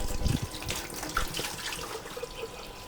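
Ultra-pure purified water pours steadily into a vessel for fungal culture medium, a continuous close splashing rush lasting a few seconds with no voices.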